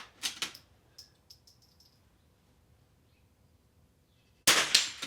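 A .22 rifle fires at a range, a sharp close crack at the start, faint distant ticks of the target impact shortly after, then another sharp loud report near the end amid near silence.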